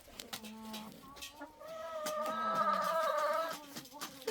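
Hens clucking in a crowded henhouse on a farm in freezing weather, a close cluster of soft, overlapping clucks and throaty calls building to a louder burst before settling again.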